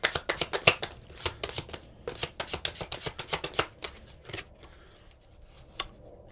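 Tarot cards shuffled and drawn from a deck, a rapid series of crisp papery riffles and flicks in bursts, close and fairly quiet, ending with a single sharp card snap.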